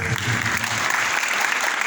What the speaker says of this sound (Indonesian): Boleh tepuk tangan dulu dong.